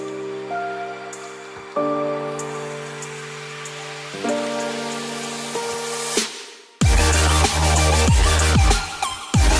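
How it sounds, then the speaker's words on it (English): Heavy rain pours down in a dense, loud hiss with scattered sharp patters. It bursts in suddenly after a stretch of steady tonal humming. "It started raining"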